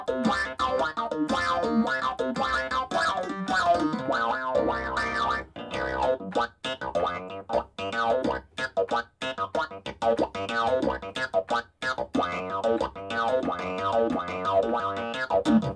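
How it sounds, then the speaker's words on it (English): Korg Triton Studio synthesizer sound played with the damper pedal held down, a dense sustained wash of layered tones with shifting rhythmic patterns and pulsing bursts, loud and continuous throughout with no voices. "And all I'm doing is just pressing down on the damper pedal."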